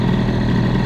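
An MBK Booster 50 scooter fitted with a Gilardoni cylinder head runs with a loud, steady engine drone at high revs before the clutch engages, recorded up close with no talk.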